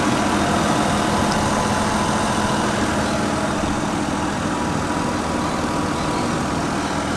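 A rare stock turbocharged Toyota Supra with about a quarter million miles runs with a steady, dense engine drone that holds constant and close throughout.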